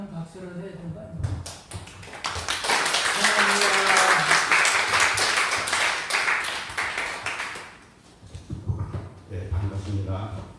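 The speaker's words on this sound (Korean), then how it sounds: "환영 박수를 해야 되는 거 아니에요?" A gathering at an alumni Christian fellowship worship service breaks into welcoming applause for a pastor, a loud dense burst that builds and holds for several seconds before fading, with talk heard before and after.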